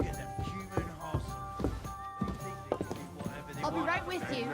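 Horse hooves clip-clop in a medieval village in the video game Kingdom Come Deliverance 2, with a few distinct footfalls heard under steady talk and background game sounds.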